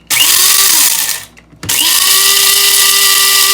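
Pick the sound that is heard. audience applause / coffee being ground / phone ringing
coffee being ground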